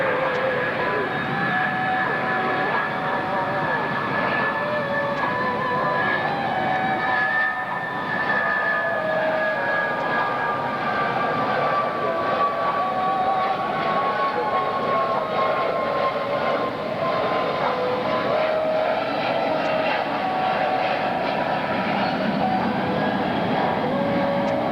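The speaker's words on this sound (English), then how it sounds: "when you're flying the airplane slow, you really have to manage the power pretty well" Airplane flying slow at a 1995 London International Airshow demo, a loud, continuous engine drone with steady whining tones that shift slightly in pitch as it passes.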